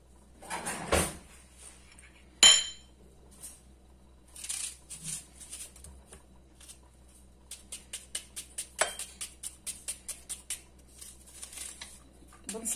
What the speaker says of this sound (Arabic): بالنسبه للبصله كنشلضوها رقيقه